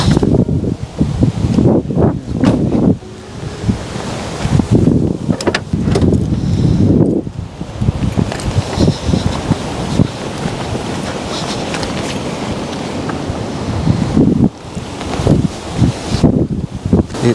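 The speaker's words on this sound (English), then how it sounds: "Oh my god, it's windy." Strong wind buffeting a microphone outdoors in Australia, loud roaring gusts that surge and ease throughout with brief lulls.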